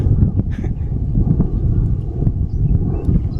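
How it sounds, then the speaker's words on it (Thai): Strong wind blows outdoors during a bird-training outing, buffeting the microphone with a loud, continuous low rumbling roar that never lets up. "โอ้ลมก็ลม สั่นหมดแล้วเนี่ย"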